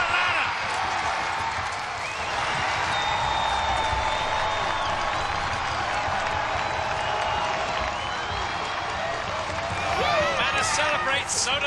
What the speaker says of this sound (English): Manus celebrates, so do the crowd